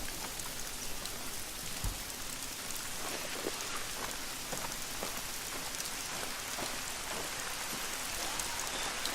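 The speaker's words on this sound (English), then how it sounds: "I think rain and things like that mask your sound" Steady rain pours down in theHunter: Call of the Wild as a storm front moves in, a dense, even hiss with scattered droplet ticks across the whole stretch and a faint low rumble.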